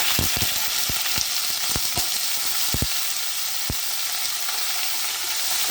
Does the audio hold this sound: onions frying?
yes